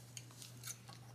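Scissors cutting a moon shape out of paper for a Halloween card, a few quiet crisp snips spaced across a short, faint moment with no talking.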